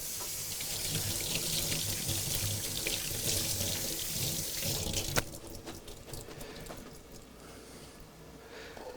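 Cannellini beans are rinsed under a running kitchen tap: a loud, steady gush of water into the sink that breaks off partway, leaving lighter splashing and drips.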